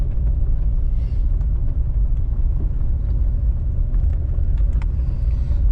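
A 2001 Jeep Cherokee XJ drives up a gravel road, its engine giving a steady loud low rumble throughout with faint crunching and small knocks from the tires, no talk.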